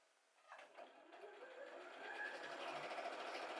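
A sewing machine stitching through denim with pink thread, starting up after a soft thump and settling into a steady, fast mechanical whir, close and continuous.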